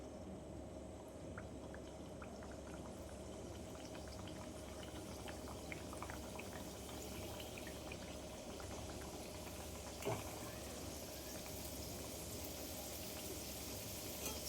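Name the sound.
samosa frying in hot oil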